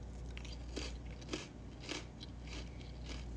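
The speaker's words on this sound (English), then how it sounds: "It's like the perfect crunch." Crispy rosemary-salted snacks are crunched and chewed up close, with repeated crisp bites and crackles over a steady low background hum and no talking.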